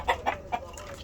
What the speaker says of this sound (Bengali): এই যে আমাদের খামারের মুরগি